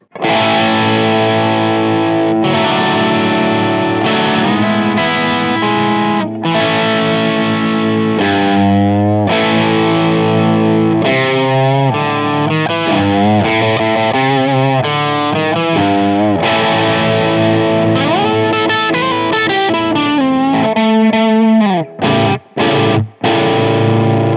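A Fender Ultra II Stratocaster with heavy Marshall-style distortion plays loud, sustained chords and bending lead lines with an overdriven amp tone, ending in a few sharp stabs.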